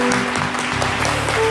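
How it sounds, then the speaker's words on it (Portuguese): A church congregation claps together during a worship service, a dense burst of applause over steady sustained musical tones. "Vamos aplaudir o Senhor."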